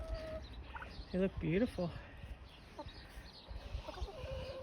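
Turkeys, including a tom, gobble in a quick warbling burst among clucking chickens in a snowy winter farmyard, fairly faint and nearby, with a person speaking briefly.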